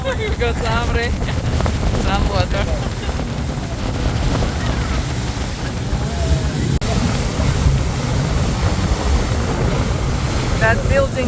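A tour boat moves across choppy Great Lakes water in Michigan, its steady engine rumble and wind buffeting the microphone throughout, with waves slapping below and a voice talking faintly in the background.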